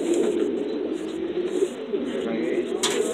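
Cuban criollo pigeons coo in a loft, a continuous low throaty rolling coo close by, with a few brief higher chirps and a sharp rustle near the end.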